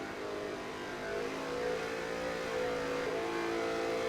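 A NASCAR race car engine in the video game NASCAR Heat 3 drones steadily and climbs in pitch as the car accelerates, close and continuous with no talking.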